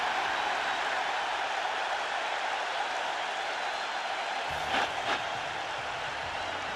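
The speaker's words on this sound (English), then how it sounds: "Deafening roar in the Silverdome" Deafening crowd roar fills the Silverdome during an NFL football game, a dense, steady wash of noise from a packed stadium with a couple of brief sharper bursts near the end.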